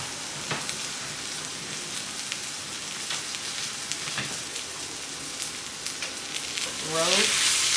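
A pot roast seasoned with pepper, garlic and salt fries in a pot, giving a loud, steady sizzle with crackling pops throughout and a brief scraping stir near the end.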